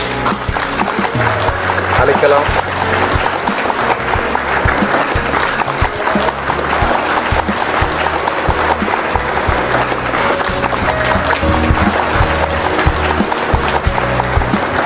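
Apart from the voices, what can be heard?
audience applause at a book launch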